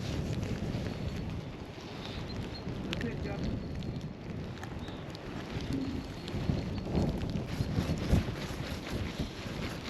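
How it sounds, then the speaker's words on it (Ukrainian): Cold wind rushes past a microphone outdoors while fishing in March at about plus three degrees, a continuous rough buffeting roar with faint rustles and small knocks, steady throughout. "Вітер такий."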